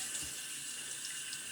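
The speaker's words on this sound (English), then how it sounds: "You'll hear me have the water running just lightly." A tap runs lightly into a bathroom sink as a shaving brush is loaded from a tub of shaving soap, giving a steady, close, soft hiss of flowing water with no talk.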